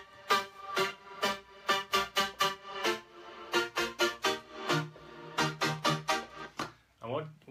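A vocoded chord is cut into rapid percussive stab impacts, a choppy run of short bright bursts in quick rhythmic clusters with brief gaps, playing alone up close.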